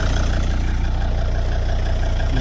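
Volvo XC90 D5 diesel from 2003 idling with failed engine mounts, a steady close-up low throbbing drone with an even pulsing rhythm and no talk.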